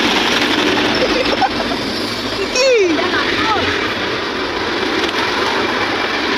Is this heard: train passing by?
yes